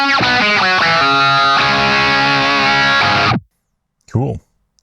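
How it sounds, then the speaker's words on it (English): Electric guitar played through an envelope filter effect on a Beam Mini amp: a few quick plucked notes, then a sustained distorted chord ringing for about three seconds before cutting off, followed by a brief, quieter bent note. "Let's try the envelope filter."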